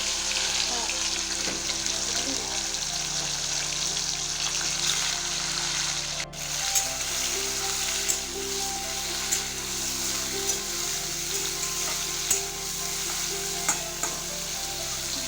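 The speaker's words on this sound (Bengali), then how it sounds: "এগুলোকে ভেজে নিই" Continuous sizzle of chicken frying in oil, close and even, with occasional light clicks and a low steady hum underneath.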